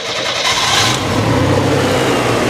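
A 1994 Chevrolet Astro van engine cranks and starts, then settles into a loud, steady running rumble close to the microphone, with no talk.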